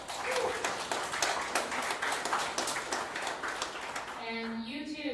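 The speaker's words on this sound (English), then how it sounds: "please join me in a round of applause for our volunteers" A meetup crowd claps for the volunteers at a Vue NYC event, dense sustained applause filling the room, fading near the end as a few tonal sounds and voices come in.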